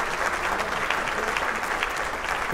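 Steady, dense applause and clapping from a group at a Las Vegas seafood buffet, uniform and fairly loud for the whole span without any voices.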